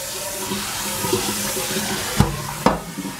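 A kitchen faucet runs water into a sink steadily, with two sharp knocks or clunks near the end, fairly close and with no talk.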